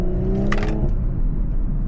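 2020 Audi S5 Coupe in dynamic mode, its engine rumbling steadily from the cabin with a brief burst of crackle as it revs through a gear change, then settling back into a low drone.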